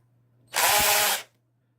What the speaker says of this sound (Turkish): darbeli matkaplarda çıkan sesi bilirsiniz